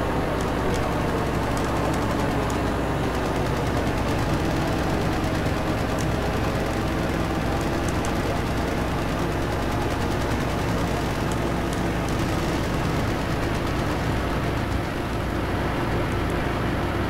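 Enemy gunfire strikes a player's plane in the IL-2 flight game over France, a steady rattle of shots and impacts buried in a constant, loud engine and wind roar that runs the whole time.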